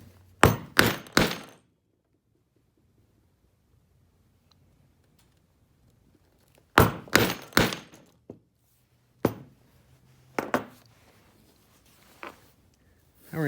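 A hand punch driven through a leather belt with a mallet: sharp, close, loud thunks in quick clusters of three or four, separated by long silences, then a few single strikes.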